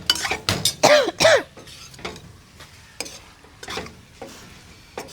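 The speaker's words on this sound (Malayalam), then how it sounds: "നമ്മുടെ വറുത്ത് വെച്ച ചെമ്മീൻ ചേർക്കുന്നു." Fried prawns being stirred into biryani masala in a pan, a few loud scraping, sizzling strokes early on, followed by quieter intermittent stirring clinks and sizzle bursts.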